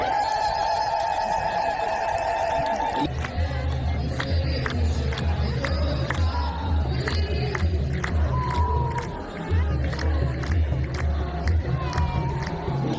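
Crowd at a church wedding ceremony for 44 couples ululating loudly, a high trilling chorus at first, then a dense mix of cheering voices and shouts.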